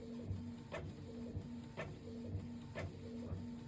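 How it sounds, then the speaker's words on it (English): A slow printer runs off a photocopied collage for envelope mail art, its steady mechanical whir broken by regular clunks of the paper feed about once a second, alone with no talk. "it's not the fastest printer in the world either"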